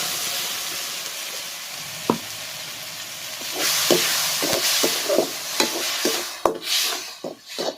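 Ground tomato paste frying in a pan with curry leaves gives a moderate sizzle, broken by sharp clicks and scrapes from stirring that come more often in the second half.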